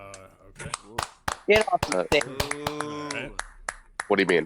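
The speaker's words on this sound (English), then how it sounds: "Ignore the Pringle can sound you hear." Sharp popping snaps from a Pringles can held up against a microphone, several quick cracks scattered through the moment, loud and close, mixed in among ongoing speech from several voices.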